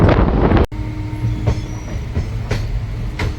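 Heard from inside the Visakhapatnam–Bhubaneswar Intercity Express at night as it enters Khurda station: a loud rush cuts off abruptly, then steady wheel rumble with periodic clacks over rail joints continues, and no one speaks.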